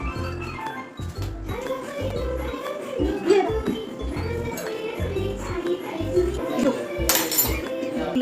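Spoons clink against drinking glasses in a scattered series of light, bright taps, mixed in with children and adults talking throughout.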